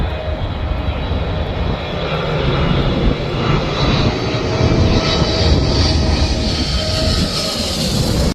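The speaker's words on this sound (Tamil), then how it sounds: "இவ்வளோ பக்கத்துல ஃபிளைட் லேண்ட் ஆகிறத சூப்பரா பார்க்கலாங்க." A passenger jet comes in to land at Dubai airport, heard from Mushrif Park close by: a loud, sustained engine roar that swells steadily throughout without break, with no voices over it.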